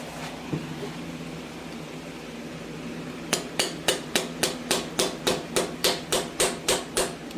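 A hammer strikes a chisel during the teardown of a 1990 Chevy 350 engine: one early knock, a pause, then about fourteen sharp metallic blows in a quick, even rhythm, close and loud, with no talk.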